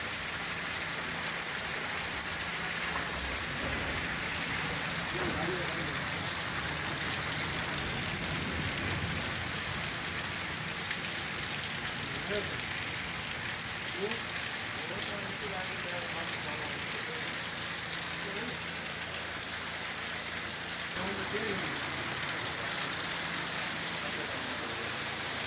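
Steady rain falls through the night in Karachi in April, a continuous broadband hiss with scattered drops and low rumbles, heavy and unbroken for the whole stretch with no voices.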